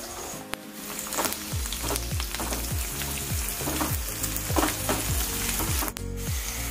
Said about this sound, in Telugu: మనకి ఆనియన్ ఉన్న మిర్చి మంచిగా వేగిపోయాయండి.